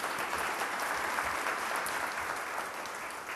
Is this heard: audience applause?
yes